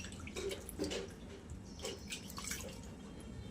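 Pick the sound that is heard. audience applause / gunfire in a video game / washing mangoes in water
washing mangoes in water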